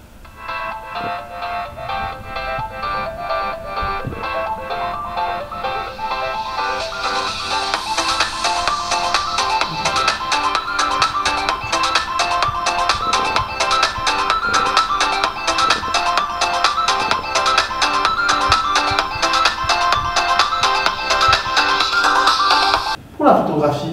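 Ringtone from a Samsung A03s smartphone loudspeaker: a bright looping electronic melody that plays steadily on its own for about twenty seconds and gains fuller, brighter treble partway through before cutting off.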